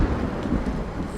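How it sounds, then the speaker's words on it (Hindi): Heavy stormy rain with a thunder rumble: a dense, loud wash of falling rain over a deep low roll, steady throughout the brief moment. "कुछ समय के बाद जोरों की तूफानी बारिश की आवाज से रानी उठ जाती है"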